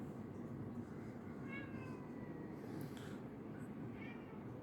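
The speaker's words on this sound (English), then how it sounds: "If you hear that, that's my cat Cole." A pet cat named Cole gives a few faint, short meows in the distance under a steady low hum of background noise, the calls thin and widely spaced.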